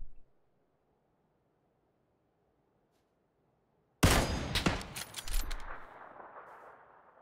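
Gunfire in a shooter video game on a new map, after a few seconds of near silence a sudden loud burst of rapid overlapping shots that trails off into a noisy, echoing decay.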